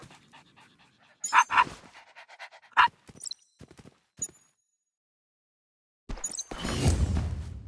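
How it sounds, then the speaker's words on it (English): A dog named Cha-Cha, a battle pet in a sci-fi mobile game, pants in quick breathy bursts, with sharp game-effect hits scattered between and a loud noisy burst at the end. "Entity is a dog named Cha-Cha, someone's lost battle pet."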